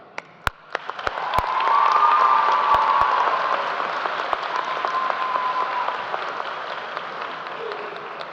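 A graduation ceremony audience at Northwest High School welcomes a speaker to the podium, starting with a few scattered claps that swell into sustained, full-room applause before slowly tapering off.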